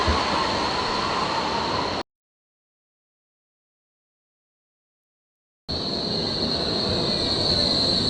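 A Berlin U-Bahn train at a station: steady loud rumble with a high wheel squeal, cut to total silence for several seconds, then resuming as before, with no voices.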